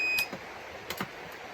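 A household alarm giving short electronic beeps, a couple of clear tones near the start followed by fainter clicks and taps in a quiet room.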